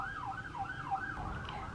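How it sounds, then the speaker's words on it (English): A police siren wails, cycling up and down in pitch about four times, steady and fairly loud, with a low rumble of traffic underneath. "there's sirens"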